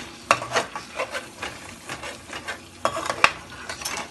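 Chicken curry being stirred and fried in a pan, with soft scraping strokes and quiet sizzling, close up, the spoon clinking against the pan a few times and no talk.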